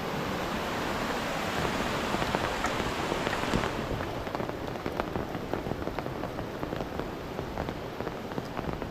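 Heavy monsoon downpour in the Konkan countryside near a swollen river and old temples, a loud, dense roar of rain with rapid close drops spattering on surfaces, continuous and unbroken.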